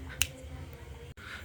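One sharp finger snap sounds early on, meant to switch on an LED light, standing out briefly against a quiet indoor room hum.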